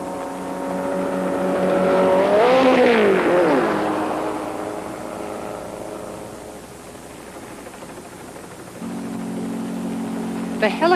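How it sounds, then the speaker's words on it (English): A stunt car in the 1982 Grand Canyon Colorado River jump setup makes a test approach toward a jump ramp, its engine rising in a whining pitch sweep as it passes, then fading into a steady distant drone under a narrator's voice. "make 3 test approaches to the ramp, checking both the car and the condition of the road"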